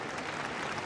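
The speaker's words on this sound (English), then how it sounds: "There was this very polite, very discreet clapping" Soft, restrained clapping from a crowd as Queen Elizabeth II leaves Westminster Hall, a steady, even patter of many hands held at a modest level for under a second.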